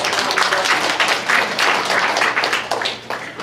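A church congregation at a spring-semester opening service for a senior college claps warmly to welcome new members. The applause is dense, close and steady, then thins toward the end.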